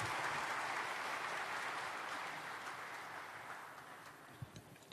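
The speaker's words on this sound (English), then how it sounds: "Let's have a thunderous round of applause for him," Audience applause for the chief guest, the Honourable Minister, at the inauguration ceremony of ECGC's new head office building. A broad, steady wash of clapping that fades gradually toward the end.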